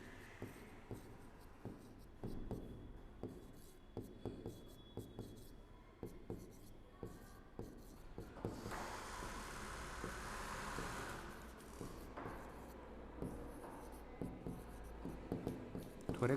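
Pen scratches on paper in repeated short strokes during a zoology lecture, quiet and close, with a brief stretch of broadband rustle in the middle and faint background hum.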